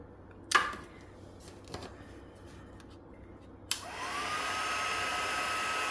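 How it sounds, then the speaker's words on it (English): A heat embossing tool starts with a couple of sharp clicks, then switches on and blows hot air in a steady, close whoosh with a thin high whine running under it until the end. "when your heat tool is heated up nicely, it goes a lot quicker"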